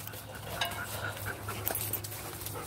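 Puppies pant in quick soft breaths and let out a few faint whimpers nearby, over a low steady hum during firewood hauling.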